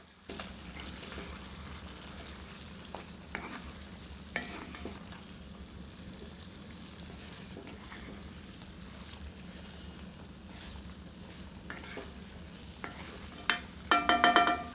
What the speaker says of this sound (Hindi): अब चिकन में साओजी मसाला ऐड करते हैं। सबको मिला देते हैं।